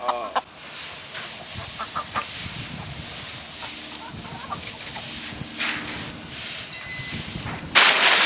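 Laying hens cluck and murmur inside a wooden coop on a small farm, a steady close chorus with scattered sharper calls, ending in a sudden loud burst of noise.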